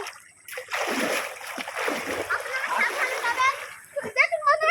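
Children wade and splash through water crossing a creek in the Sundarbans while out catching crabs, a busy continuous splashing close by with voices talking over it throughout.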